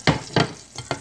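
Olive oil with a little butter sizzling in a frying pan, heard as several short bursts of frying noise in a quiet kitchen.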